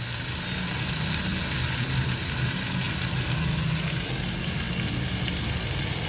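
Vegetables steaming in a pan after tempering, giving a steady soft sizzle and faint bubbling that holds at an even level throughout, with no voices.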